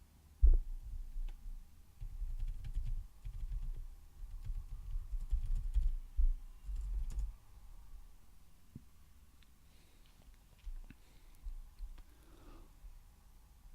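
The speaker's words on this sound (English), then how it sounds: "you can type the website URL directly." A website address is typed on a computer keyboard, with soft, muffled key taps and low thumps clustered in the first half, then quieter, sparse clicks over faint room hum.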